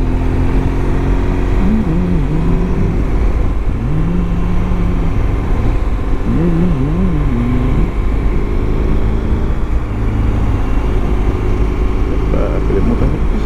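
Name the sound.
BMW R1200GSA motorcycle riding in rain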